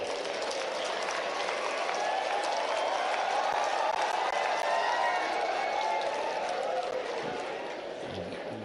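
An audience of BAMS students clapping hard in a hall, a dense, sustained roar of applause holding steady for several seconds before tapering slightly at the end.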